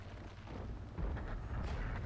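Heavy tank cannon boom in World of Tanks from a T110E5 battle, a deep low rumbling blast swelling midway and rolling on to the end without any talk.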